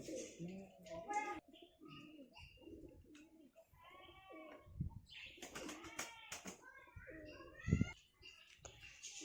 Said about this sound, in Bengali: এই যা উপরে এত পায়রা